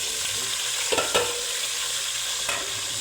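Onion and green chili frying in a pan with steady broadband sizzle, punctuated by a few distinct scrapes and clinks of a utensil stirring, close and continuous with no talking.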